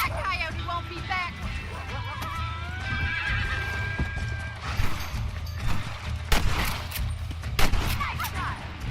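A horse in the Red Dead Redemption video game whinnies and gallops with clip-clopping hooves, gunshots cracking in bursts over it while a player talks.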